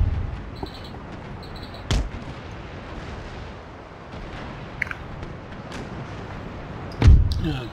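Naval cannons fire in an Empire: Total War sea battle, with sharp, separate booms at intervals over a steady rumbling ambience, the last shot the loudest and nearest.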